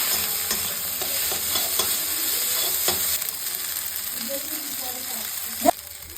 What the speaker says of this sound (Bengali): এখন ম্যাগিগুলো দিয়ে দেবো, অল্প অল্প করে মেশাবো।